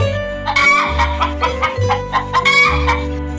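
A rooster crows loudly and close, its drawn-out call rising and breaking into several strained syllables over a low, steady background tone.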